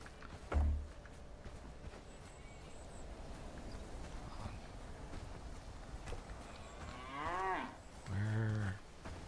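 Cows low in the livestock pen of the medieval village game Bellwright: two long, drawn-out moos near the end over a steady hum of ambient farm noise, with a low thud early on.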